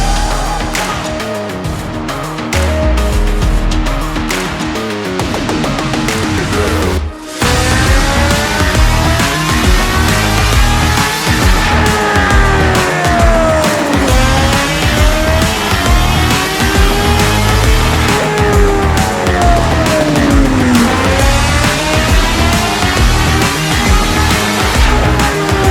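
A stage 3 supercharged 2021 Kawasaki Z H2 motorcycle revving hard on a dyno, a loud, sustained engine whine that climbs and falls in repeated sweeping rev cycles, with a brief cut near the start.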